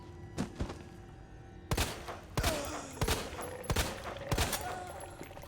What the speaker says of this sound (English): Just taking shots with the 1911, trying to down her, trying to down the Ivy.